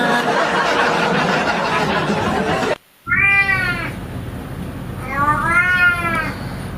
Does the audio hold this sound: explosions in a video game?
no